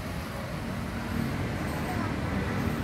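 A bus rolls past on a city road near a police station, a dense, constant rumble of engine and tires mixed with traffic noise, with people talking faintly underneath.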